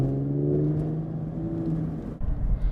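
A Cadillac CTS VSport with a Corsa axle-back exhaust cruises through a neighborhood, its engine a steady low drone heard from inside the car, shifting slightly near the end.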